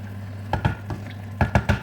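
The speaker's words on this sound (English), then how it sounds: "As you can see, it's boiling." Bubbling and sizzling in a pot of eggplant soup with meat, with irregular soft pops and bursts over a steady low hum, close by.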